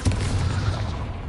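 Bombarda blast spell exploding in the video game Hogwarts Legacy: a loud, dense burst with a heavy low boom that rumbles on without a break for over a second.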